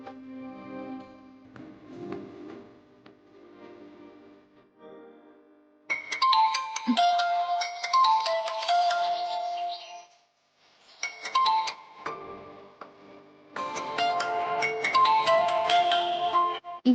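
A phone rings with an incoming call, a repeated electronic ringtone in bursts with short gaps. It is loud and close, over background music, with a soft stretch at the start.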